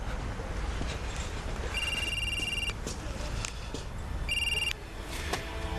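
A telephone rings in two separate bursts, the first longer than the second, over a steady background hum in a dramatic indoor scene.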